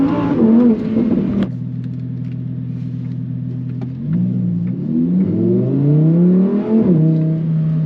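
A Lamborghini's non-hybrid, non-turbo engine idles with a steady low drone, then climbs in a rising rev and settles back, a close and loud mechanical tone with no talk.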